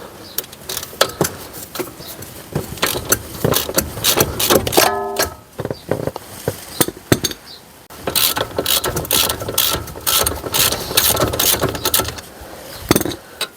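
A brake bolt on a 2017 Mercedes E220 is worked loose with a 17mm spanner and tools: rapid, close metallic ratchet clicks come in bursts with short pauses.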